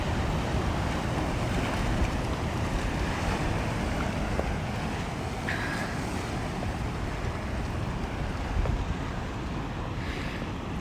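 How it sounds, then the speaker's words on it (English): Surf on a wild Australian coastline at sunrise, a steady broad wash of waves with wind rumble across the microphone, continuous and fairly loud with no talking. "I can hear the surf coming, and every now and again I see a splash of water"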